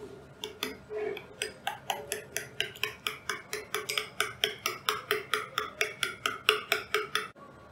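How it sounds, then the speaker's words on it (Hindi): A spoon stirs barbecue sauce and ketchup together in a bowl, clinking against the sides in a steady, even rhythm of about three strokes a second, close and clear. No one speaks. "बस इसको मिक्स कर लेना है।"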